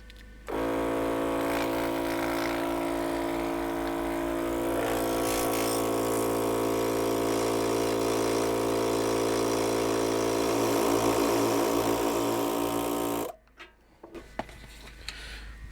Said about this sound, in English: I picked up this little air compressor from Costco